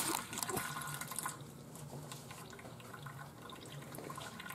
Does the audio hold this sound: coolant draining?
yes